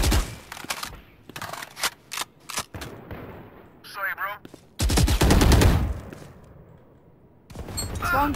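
Assault rifle gunfire in the Valorant video game, several sharp bursts of rapid shots with loud sustained fire in the middle, mixed with game effects and voices talking.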